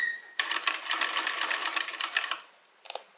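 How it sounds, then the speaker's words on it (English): Cylinder arm sewing machine stitching around a handbag seam, a fast steady run of close mechanical clatter that starts abruptly, carries on for about two seconds, then trails off before a short final burst. "I'm going to put it on the cylinder arm machine like this, and we're just going to go all the way around."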